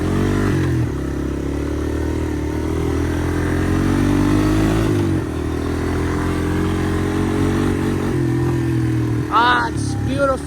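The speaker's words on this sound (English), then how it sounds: "It's beautiful, beautiful night for riding and taking the old 3-wheeler out for a little spin." An old Honda three-wheeler's engine runs steadily and loudly at night, with a continuous close drone and low-pitched harmonics that rise and fall with the throttle, plus a brief higher whine near the end.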